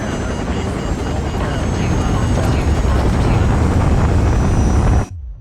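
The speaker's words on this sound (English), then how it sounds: "a SAM site launches a missile at the helicopter and shoots us down" A military helicopter struck by a SAM missile and going down in Call of Duty 4: Modern Warfare, a loud, dense roar of rotor, blast and crash noise held for about five seconds, then cut off abruptly.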